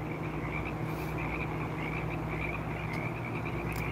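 A dense chorus of frogs croaks without pause at night outside Madonna Inn, a steady buzzing and rattling wall of calls at moderate loudness.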